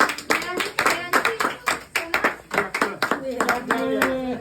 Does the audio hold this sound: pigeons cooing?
no